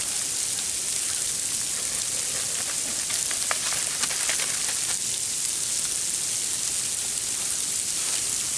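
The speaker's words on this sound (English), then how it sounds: "It's supposed to be snowing and not this sleety, noisy nightmare stuff." Steady fine hissing patter of sleet falling, with scattered small ticks of pellets striking surfaces, continuous and fairly close.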